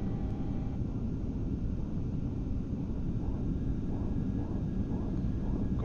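FSLabs A320 flight simulator climbing out of John Wayne Orange County: a steady, dense jet engine roar with low rumble that holds at an even level throughout, with no talking.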